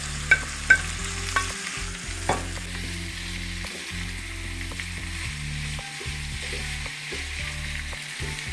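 Ham and onions frying together in a pan, a steady close sizzle with several sharp utensil scrapes and clicks early on, then continuous crackling stirring without any talk.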